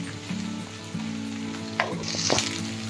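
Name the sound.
stirring pulao rice frying in a pan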